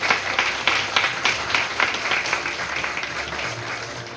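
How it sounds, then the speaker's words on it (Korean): Audience applause at the opening ceremony of a student Model UN conference, a steady sustained clapping from a crowd that holds evenly for several seconds. "모두 큰 박수 부탁드립니다."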